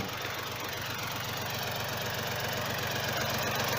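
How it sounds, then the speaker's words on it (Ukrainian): A Yanmar YM 2220 small tractor engine runs steadily and loudly up close while plowing wet soil, with a constant knocking chug and no voices. "Хочу показати, як іде трактор по мокрому."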